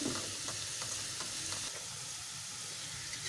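Sliced onions sizzle and crackle in hot oil in a pan, a steady close frying hiss with light stirring, no voices.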